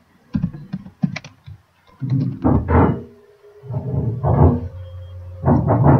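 Computer keyboard typing while writing an embedded C program, irregular clusters of key clicks with short pauses, close and moderately loud.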